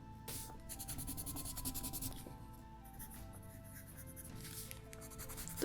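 Pencil strokes scratching across sketchbook paper in a steady, close run of rubbing and scribbling sounds, with short pauses between words being written.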